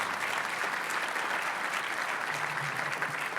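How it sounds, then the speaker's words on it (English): Steady, dense applause fills a banquet hall as guests at an Urban League annual dinner clap for donors, a continuous moderate wash of many hands without voices. "Let us all give them a round of applause for their contributions and their commitment."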